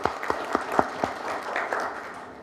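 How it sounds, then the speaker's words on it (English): An audience at a conference gives a short round of applause, opening with a few distinct sharp claps before thinning and fading within a couple of seconds. "And I think they deserve an applause right in the very beginning."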